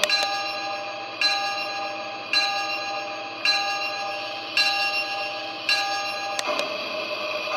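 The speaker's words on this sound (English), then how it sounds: "And then there's the bell, which is activated by pressing the bell button." Lionel LionChief C&NW toy steam train set bell ringing steadily, about seven evenly spaced clangs that each ring out and fade, clear and close with no voices.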